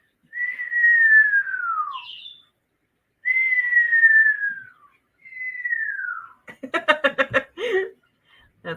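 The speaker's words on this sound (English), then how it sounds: "That's my bird." A pet bird in a home gives long, clear descending whistles, three in a row with pauses between, then a quick burst of rapid chirps, loud and close with no other sound around it.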